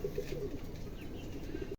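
A Mundi pigeon at a seller's loft gives a soft, low cooing, a short run of repeated throaty notes close by and quiet, cutting off abruptly at the end.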